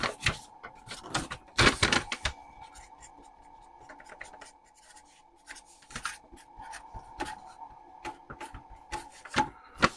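A Commodore 4040 dual disk drive copying a disk gives steady mechanical whirring and a hum, broken by irregular ticking and clicking head movements close by, with no talk.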